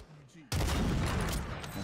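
Dense burst of video game gunfire from a Call of Duty Rebirth Island match with a MAC-10 or KAR98K loadout, starting abruptly after a quiet moment and continuing loud and sustained, with voice chat faintly beneath.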